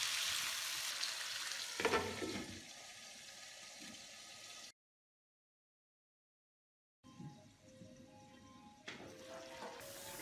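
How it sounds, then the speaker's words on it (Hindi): Chicken and tomato slices cooking on high heat in a karahi, a steady loud sizzle and hiss with a brief cutout before the frying noise resumes. "अब इसमें टमाटर स्लाइस डालें और चिकन को तेज़ आंच पर ही पकाएं।"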